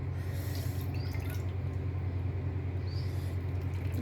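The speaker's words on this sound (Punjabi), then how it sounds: "ਹੁਣ ਆਪਾਂ ਗੈਸ ਆਫ ਕਰਕੇ ਇਹਨੂੰ ਛਾਣ ਲਾਂਗੇ ਆਪਾਂ ਹੁਣ ਆਪਾਂ ਇਹਦਾ ਪਾਣੀ ਕੱਢ ਦੇਾਂਗੇ" Water drains steadily from boiled bottle gourd through a kitchen strainer, a continuous close trickle over a low hum with no talking.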